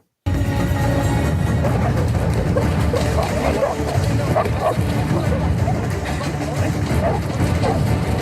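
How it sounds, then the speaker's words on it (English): Tracking dogs bark and yip repeatedly amid a busy crowd hubbub and nearby water, with the barks moderately close and mixed into continuous background noise. "It's pretty amazing tracking dogs."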